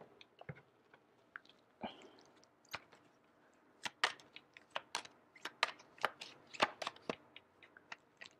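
A deck of oracle cards is shuffled and tapped, starting with scattered light clicks and building into a dense run of crisp, close card snaps and riffles.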